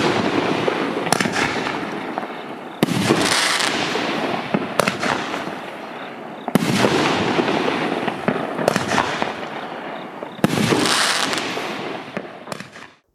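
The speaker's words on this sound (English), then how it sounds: "Pistil, a smaller bunched effect inside of the larger effect." Fireworks with pistil effects burst in four loud, sharp detonations, each followed by a long crackling, sizzling tail that fades before the next.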